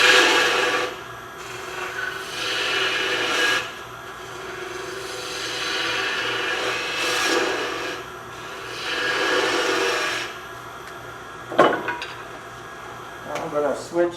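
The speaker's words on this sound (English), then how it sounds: "Back to the bowl gouge." Wood turns on a lathe while a bowl gouge cuts a mushroom shape. The cuts come as repeated rasping, hissing bursts a few seconds long with quiet gaps between them, and a few sharp knocks and clicks near the end.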